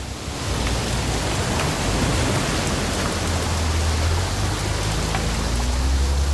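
Steady rain falls in the video game What Remains of Edith Finch, a dense, even hiss at moderate level that continues throughout, with a low tone entering and sustaining underneath.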